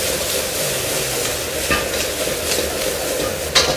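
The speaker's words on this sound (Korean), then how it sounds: "한번 센 불로 볶아주고 이때 진간장을 넣으셔갖고" Beef brisket and vegetables stir-fried over high heat in a wok with soy sauce, a loud continuous sizzle with scraping stirs and a brief clatter near the end.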